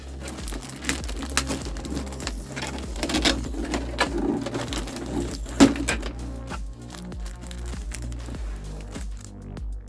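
A cardboard box holding a 1/7 scale anime figure is opened by hand, giving continuous crinkling, rustling and soft tearing up close, with scattered small taps and scrapes and no talking.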